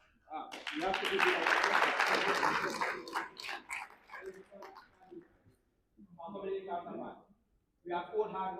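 Applause from an audience at a community project pitch day in Gambia swells loudly for about two seconds and then thins out. Voices talking follow in separate bursts.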